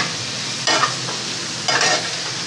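Ginger garlic paste frying in oil, a continuous sizzle broken by two louder scraping bursts of stirring about a second apart.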